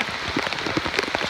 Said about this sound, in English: It's raining, heavy rain.